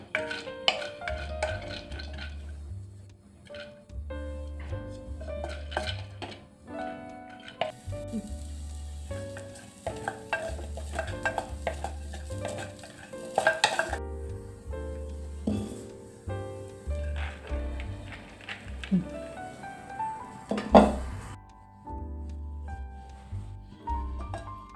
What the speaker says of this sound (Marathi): मूग जरा भाजून घ्यायचं.